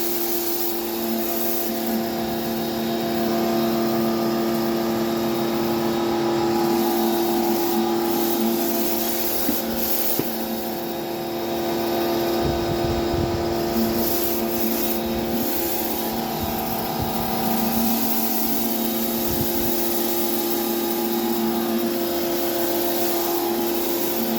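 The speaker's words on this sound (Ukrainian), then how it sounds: "Це у нас вже для підлоги спеціальна насадка. Отак вона крутиться." Stanley SXPW24bx pressure washer running with a rotating floor-cleaning nozzle attachment, a loud, steady motor whine and spraying hiss that continues unbroken, with slight shifts in the rushing texture as the nozzle spins.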